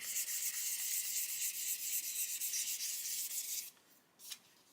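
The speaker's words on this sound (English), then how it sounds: "Just going to keep sanding that until that pen disappears off the trailing edge." A 400 grit sanding stick rubs along the trailing edge of a 1/35 scale model aircraft, a close, steady rhythmic scratching that stops near the end, followed by a couple of faint touches.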